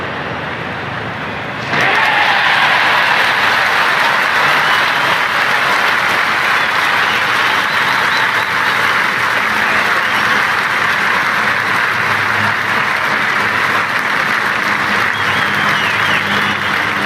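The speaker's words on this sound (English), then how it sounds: "The crowd are making a heck of a lot of noise" Loud stadium crowd applause and cheering in the cricket video game Cricket 24, during a Big Bash League match, swelling suddenly after a quiet start and then holding as a steady roar.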